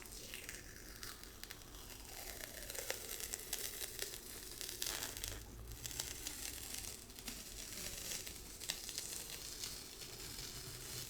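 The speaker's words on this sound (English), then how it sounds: "So let's go ahead and get that tape out." Sticky woven tape pulled and torn close up in a quiet ASMR setting, a continuous crinkly, crackling rip with soft textured rustles throughout.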